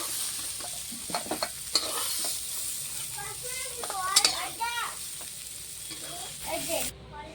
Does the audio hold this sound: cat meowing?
no